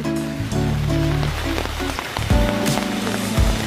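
Steady, loud rain pours before dawn where motorcycle riders have stopped, a dense hiss throughout with a few brighter tones mixed in and no clear talking.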